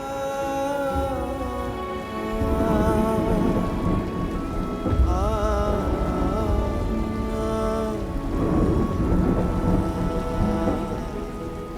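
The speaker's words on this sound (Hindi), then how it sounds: "बारिश भी बहुत हो रही है।" Heavy rain pours steadily throughout, joined by deep rolling rumbles of thunder, forming a dense, continuous wash of storm sound with no talking.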